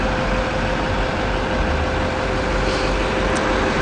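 A 2011 Chevrolet Turtle Top Terra Transport 13-passenger shuttle bus with a Duramax 6.6-liter turbo diesel sits idling, a steady, close, low rumble with an even hum and no voices over it.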